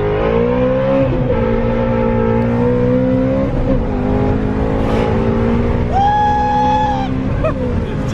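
A Ford Mustang GT350 on a dyno is revved hard toward redline, its loud, sustained engine roar climbing in pitch and swelling in waves, with a sharp rise in tone near the end.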